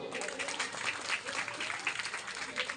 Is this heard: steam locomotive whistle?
no